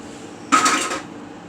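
A utensil stirs BBQ sauce ingredients in a bowl, giving a single short clink and scrape, close and fairly crisp, against a quiet background.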